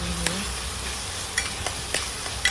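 Ground masala paste for a sprouted moth bean matki usal fries in oil, giving a low steady sizzle with a few sharp spoon clicks against the pan, close but quiet.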